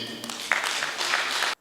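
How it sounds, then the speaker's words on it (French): Brief burst of audience clapping at a PDCI-RDA political party gathering, a dense patter of many hands that holds steady and then cuts off abruptly. "Comme ça s'applaudit."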